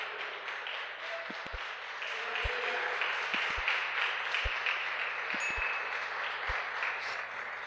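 A church congregation applauds steadily and fairly loudly during a worship service, a dense wash of clapping that swells after the first couple of seconds and holds.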